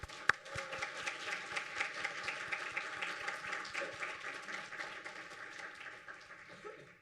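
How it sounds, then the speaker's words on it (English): An audience at a university provost's awards ceremony applauding the recipients, a dense, even round of clapping that carries on for several seconds and slowly fades near the end. "please join me in a warm round of applause for our recipients"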